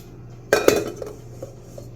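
A KitchenAid mixing bowl is set onto a stand mixer, giving one sharp metallic clank followed by a couple of lighter knocks in a quiet room.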